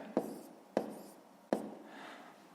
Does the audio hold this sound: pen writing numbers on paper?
yes